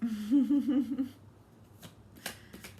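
Tarot cards are shuffled in a few quick, soft riffling bursts near the end, just after a voice speaks briefly at close range.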